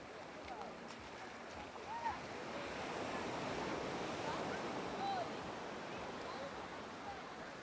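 Calm, gentle ocean waves wash onto a white-sand beach in Mombasa, Kenya, a soft steady surf with light wind across the microphone and no talk.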